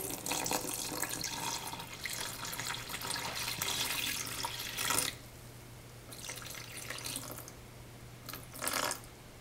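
Running water pours steadily into a mixing bowl for sourdough bread dough for about five seconds, then stops; a couple of shorter splashing bursts follow, close by and fairly loud.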